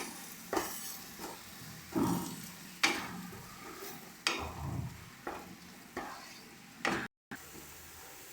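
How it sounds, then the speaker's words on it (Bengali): Spices are stirred into katla fish rezala in a pan: repeated spatula scrapes and knocks about every second, over a soft low sizzle. "এবার ভালো করে সমস্ত মশলাগুলোকে মিশিয়ে নেব।"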